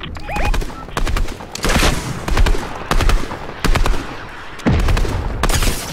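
Rapid volleys of gunfire crack through a Fortnite Battle Royale match, sharp bursts repeating every half second or so over a busy game-noise bed, loud and close, with faint voices in the background.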